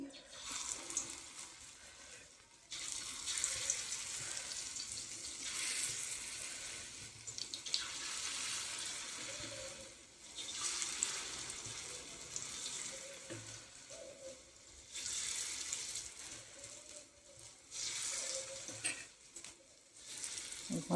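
Onion bhaji batter fries in hot oil with a bright, hissing sizzle that swells in several long bursts separated by quieter gaps, heard close and fairly soft.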